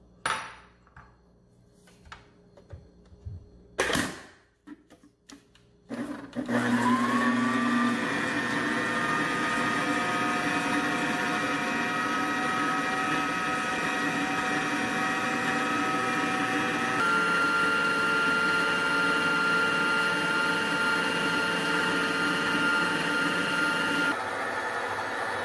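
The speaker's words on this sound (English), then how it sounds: "we're gonna cream the butter and sugar together in our food processor" A food processor creams butter and sugar with a loud, steady motor whir that starts abruptly after a few clanks and handling knocks, then runs continuously for the rest of the clip.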